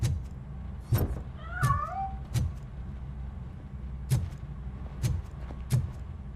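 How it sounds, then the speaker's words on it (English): A cat in the video game Robocop: Rogue City gives a short meow, set among sharp clicks and thumps over a low background hum. "That cat must be hiding inside."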